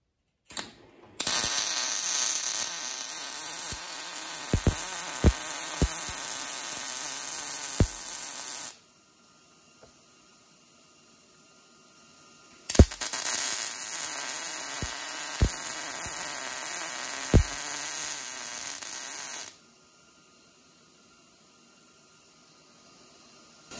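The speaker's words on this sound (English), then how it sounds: "so we're going to weld these two up" Two long bursts of buzzing, crackling arc welding on a homemade vehicle frame section, each lasting several seconds with sharp clicks in between and quiet pauses after; steady, fairly loud and close, no talk.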